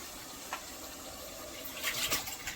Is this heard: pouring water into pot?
yes